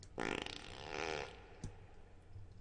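Fart sounds from Toilet Simulator: two long, buzzy, flappy bursts back to back, then a brief pop, close and fairly quiet, with no talking.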